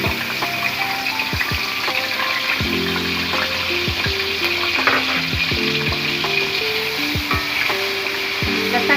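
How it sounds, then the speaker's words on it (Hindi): Two spoonfuls of garlic and ginger paste sizzle and fry in hot oil while being stirred, a steady close crackling hiss with occasional clinks of a spoon against the pan. "अब इसमें 2 चम्मच लहसुन अदरक डाल रहे हैं।"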